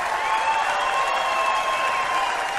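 A NASCAR crowd roars and applauds in a steady, dense wash of cheering with no break, loud and continuous throughout.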